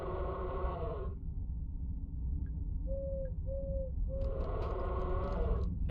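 Three short tonal owl hoots in a row from the Crow Country video game, sounding in the middle of the clip, clear and moderately close over a steady low ambient hum, with a rustling burst before and after.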